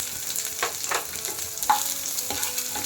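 Onions go into hot oil already crackling with curry leaves and mustard seeds, producing a loud, close, steady sizzle with brief stirring scrapes and spits and no one talking.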